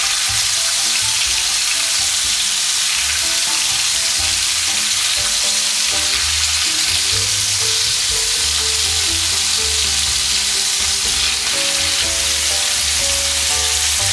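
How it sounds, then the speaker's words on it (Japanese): Bacon-wrapped beef fillet steak sears in a hot pan with a steady, loud, dense sizzle and crackle, broken by occasional stirring or shifting, with no voices. "表面のベーコンにも少し焼き目をつけます"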